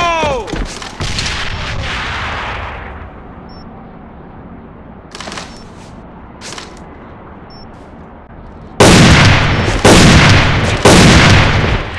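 In the online shooter AVA, an explosive charge detonates with a heavy boom, then several sharp gunshots follow before a pair of loud, sustained blasts near the end, with quieter stretches between them.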